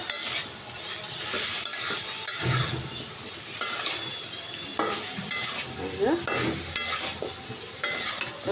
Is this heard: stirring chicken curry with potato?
yes